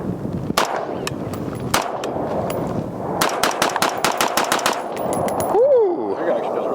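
A ZEV Core Combat Rifle fires close and loud: a few separate shots first, then a quick string of rapid cracks, followed by an excited shout and brief talk.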